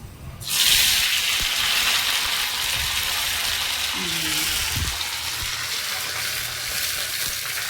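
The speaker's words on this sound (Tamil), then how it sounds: "கருவேப்பிலையை கழுவி எடுத்திருக்கேன். ஸோ இந்த தண்ணி படப்படன்னு வந்துடும்" Washed curry leaves dropped into hot oil for peanut chutney burst into loud, continuous spluttering and sizzling that starts abruptly and holds steady throughout, close by, with a brief clink of a utensil midway.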